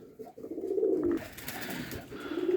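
A pair of sport pigeons at their nest coo softly in low, rolling calls, close by, with a short pause between phrases and faint background rustle.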